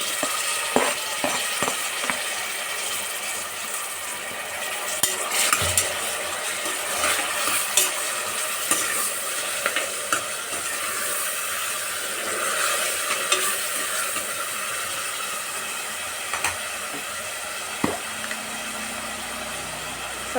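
Chopped tomatoes frying in a pan for bean sambar, a continuous close sizzle with scattered scraping thumps as the mixture is stirred.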